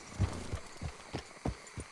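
A horse clip-clops in Red Dead Redemption 2, a video game, its hooves landing in a steady, close rhythm of about six dull, thudding steps across two seconds.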